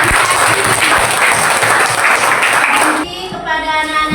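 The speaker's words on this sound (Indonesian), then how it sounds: "tepuk tangan buat" Applause for children in a classroom lesson, loud close clapping that runs steadily for about three seconds and then drops away as a voice begins speaking.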